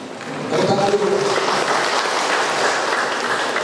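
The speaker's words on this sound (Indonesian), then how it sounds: "Tepuk tangan dulu." A crowd at a groundbreaking ceremony for an Indonesian fishing village in Banggai Laut breaks into applause, swelling in after a brief lull and holding as a broad, steady clatter, with a voice faintly underneath.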